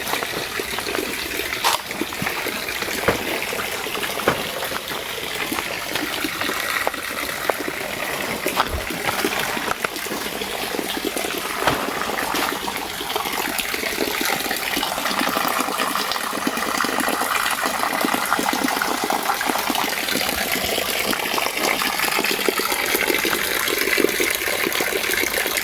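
Cold river or stream water flows continuously in a natural bathing spot in Bicol, a steady rushing trickle and gush close by, loud and unbroken throughout with no talk.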